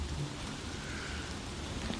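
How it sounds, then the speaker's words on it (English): Steady rain with a low rumble of thunder in the Shadowgate PC video game, a faint, brief continuous hiss of falling rain beneath a soft distant roll. "I'm so dejected about the thunder and lightning."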